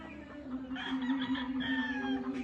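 A gamefowl rooster of the Boston sweater type, RG Imbulik Batman line, crows close by in a long wavering call, with softer clucking around it and no talk.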